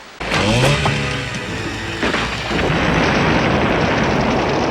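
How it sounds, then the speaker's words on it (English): A dinghy blown up by an exploding crossbow shot at a beach, a sudden loud blast followed by a second burst and a long rumbling roar of debris and fire. "Taryn takes the dinghy out with her exploding crossbow"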